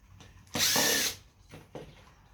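A cordless drill backs screws out of a computer motherboard in short bursts: one loud half-second whir, then two briefer, softer spins close by.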